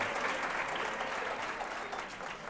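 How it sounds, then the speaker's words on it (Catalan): Studio audience applauding quiz contestants on a local TV quiz show, steady dense clapping that holds at an even level throughout without voices on top. "també aplaudiment"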